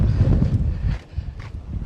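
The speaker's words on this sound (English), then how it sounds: "But it is so windy." Strong gusty wind buffets the microphone in the Anza Borrego desert while boondocking, a loud continuous low roar with rustling surges and no speech.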